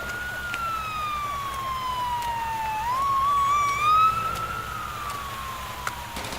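Wailing police car siren at night in Iguala, Guerrero, a steady rising-and-falling tone sweeping continuously with a faint engine rumble underneath, fairly close and loud throughout.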